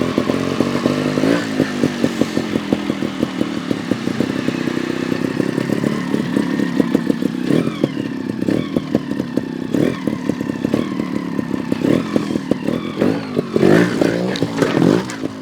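A GasGas TXT 300 trials motorcycle works through a backyard obstacle course, its engine loud and near, rising and falling in repeated revs and blips with rattling clatter between bursts.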